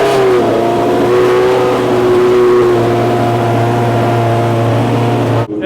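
A Formula 3000 race car engine running loud and close at a Japanese car festival, a steady high engine drone with pitch shifts from revving, cutting off abruptly at the end.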